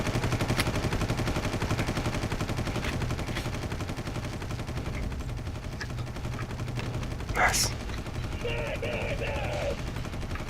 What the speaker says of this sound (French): y a la mitraillette qui tire.